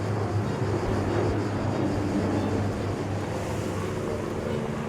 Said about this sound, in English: Dragon, the helicopter,